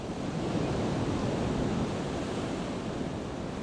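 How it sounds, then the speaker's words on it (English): Ocean waves breaking steadily at Currumbin beach, Gold Coast surf, a continuous loud broadband roar of surf with some wind noise and no distinct pauses. "The quality of the waves here rivals the best in the country."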